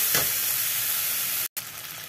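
Frying in a pan seasoned with turmeric and salt, a constant close sizzle with light stirring, briefly cutting to silence for a moment before resuming.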